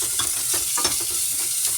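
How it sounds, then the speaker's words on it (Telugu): Onion fries in a pan with asafoetida, giving a steady close sizzle broken by soft stirring scrapes, with no voices. "కొంచెం ఆనియన్ కూడా బాగా ఫ్రై చేస్తాము."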